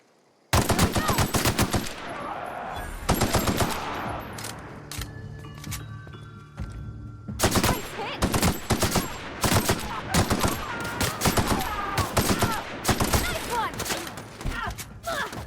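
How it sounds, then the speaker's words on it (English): Rapid, loud bursts of Gatling gun fire in the video game The Outer Worlds, sustained volleys broken by brief pauses, with a voice exclaiming over the shooting. "I didn't know there's a Gatling gun there."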